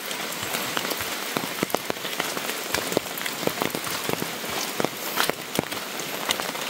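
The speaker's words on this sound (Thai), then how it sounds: "เขตนี้ก็แม่นฝนตกมาเฮ็ดหยังก็บ่ได้พี่น้อง" Steady rain falls on a rural forest home area, a dense even patter with scattered louder drops striking nearby surfaces, continuous and close with no voices.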